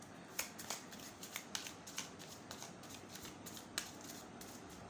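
Tarot cards being shuffled, quick crisp riffling flutters in short irregular bursts, faint and close with no voices.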